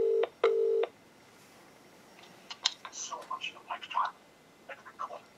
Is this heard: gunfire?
no